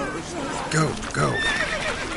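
Roach the horse whinnies loudly in a video game, with clip-clop hooves and a voice speaking over the neighing.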